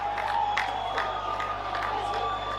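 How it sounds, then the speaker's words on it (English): North Albany football crowd cheering at a country football match, a distant roar of voices with scattered whoops and shouts, steady over a couple of seconds. "North Albany crowd erupting in the background."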